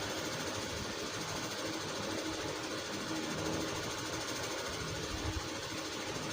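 A sewing machine stitches a collar onto a dress in a continuous fast, rattling whir, faint and steady throughout without pauses.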